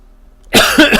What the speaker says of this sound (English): I got a little bit of a cough in my chest this morning and I just can't get rid of it